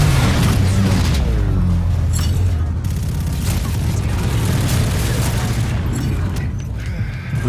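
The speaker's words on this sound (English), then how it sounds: "Who the fuck is shooting me, man?" Gunfire and booms in Call of Duty Infinite Warfare come as repeated sharp bursts over a loud, rumbling multiplayer battle. Someone talks throughout.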